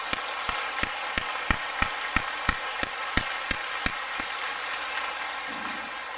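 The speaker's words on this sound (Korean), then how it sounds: "우리 왕 집사님께 큰 박수로 한번 격려 한번 해주세요." A Korean church congregation at a Sunday service claps for the choir conductor in sharp, evenly spaced claps, about a dozen in unison, which thin out and stop after about four seconds, with no talking.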